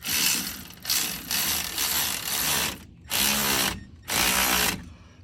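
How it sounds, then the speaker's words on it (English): Bursts of a cordless Milwaukee power ratchet whirring close by, four or five runs of a couple of seconds each with brief pauses between. "my Milwaukee ratchet is small enough to do most things"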